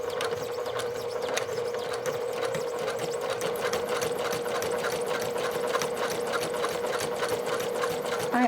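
A sewing machine running steadily as it top stitches a fabric gift card pouch, a fast continuous whirring needle rhythm close up with no talk.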